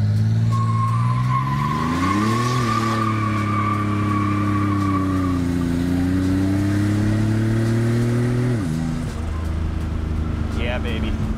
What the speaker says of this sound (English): Let's turn around and do another pull with that open exhaust. It sounds so cool.